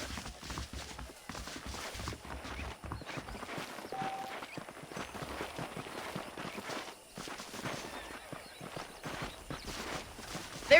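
Horse hooves clip-clopping steadily over ground while riding in Red Dead Redemption, an even, continuous rhythm of close hoofbeats with faint snorts and ambient game sound underneath, running the whole stretch.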